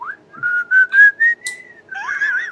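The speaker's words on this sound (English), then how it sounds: "I'm whistling inconspicuously." A person whistles a light, wandering tune, one continuous rising and falling melodic line with a few brief breaks, close and clear.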